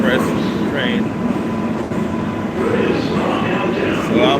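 An express subway train in New York City rolling along: continuous loud rumbling and rattling of the rail cars, with a voice talking on top of the noise throughout.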